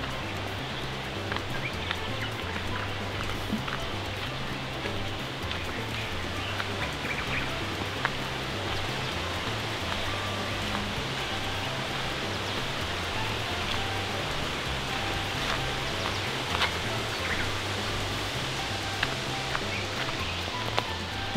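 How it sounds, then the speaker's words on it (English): Mantenga waterfall in a nature reserve in Swaziland, a constant broad rushing of falling water heard from a short distance, steady and unbroken with faint scattered sounds on top. "can hear the waterfall, I don't think it's far."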